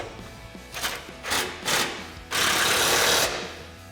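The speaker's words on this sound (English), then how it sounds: "So now we can take a 13mm socket to tighten down our bolts." A 13mm socket tightens factory bolts on an exhaust hanger of a Jeep Gladiator JT, giving several short ratcheting bursts followed by a longer, steady, louder run, close up with no talk.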